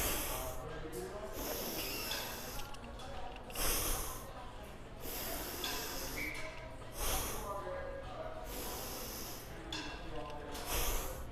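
Loud forceful breaths exhaled through the mouth and nose during a split stance Pallof press with torso twist, repeated hissing puffs close to the microphone with continuous talking over them.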